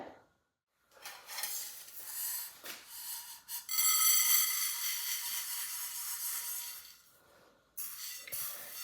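Roasted urad dal is moved from a pan onto a plate: scattered clinks and scrapes of a utensil, then a sustained dry rattling rush of grains pouring, fading out before a final scrape.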